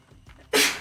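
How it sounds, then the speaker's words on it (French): A single sharp sneeze bursts out after a stretch of quiet low murmuring, loud and close, then trails off. "elle arrête pas d'éternuer"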